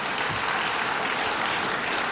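An audience claps at a university faculty and staff convocation, dense sustained applause filling the room without a break.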